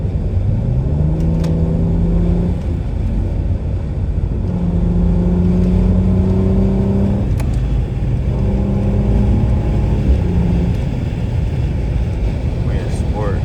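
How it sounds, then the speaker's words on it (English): A turbocharged car in sport mode with its exhaust opened up, making simple acceleration pulls. Loud engine and exhaust roar climbs in pitch through several repeated pulls, close by. "I'm gonna let y'all hear the turbos."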